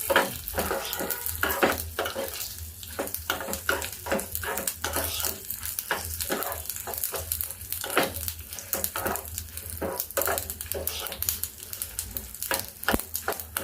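Dry red chilies and green chilies frying in a pan, loud crackling sizzle with rapid, busy stirring and scraping strokes throughout, heard up close with no speech.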